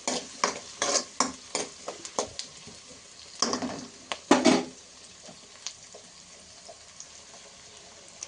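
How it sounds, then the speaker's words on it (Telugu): Egg bhurji is stirred in a hot pan over high flame, the spatula scraping in quick rhythmic strokes over a soft sizzle of oil, close and fairly loud. "అటు ఇటు కొంచెం కలుపుకోండి."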